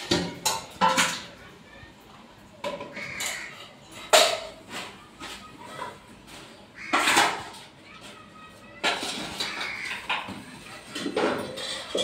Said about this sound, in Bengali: চলো থালাবাটিগুলো মেজে নিই।